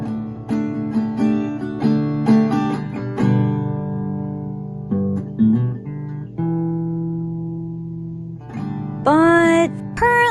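A guitar is played skillfully, with fast runs and ringing sustained notes, then a few bent, sliding notes near the end, close and clear with no voices.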